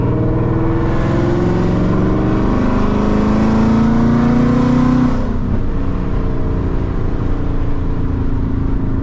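A 2015-2023 Ford Mustang GT with a loud aftermarket exhaust accelerates hard, heard from inside the cabin, its V8 roar climbing steadily in pitch for several seconds, then dropping at a gear change and continuing at a lower drone.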